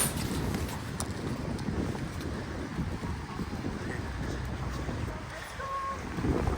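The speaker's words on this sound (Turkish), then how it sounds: "Çünkü rüzgar var bugün burada." Gusty wind buffets the microphone in a constant low roar at a ski area, with faint distant background noise and no clear voices.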